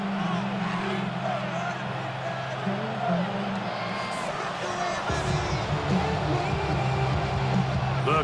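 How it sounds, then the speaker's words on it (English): A stadium crowd in Madden NFL 26 roars and swells in the background, loud and continuous, under a commentator's steady play-by-play talk. "The crowd cranking it up another notch before third and long."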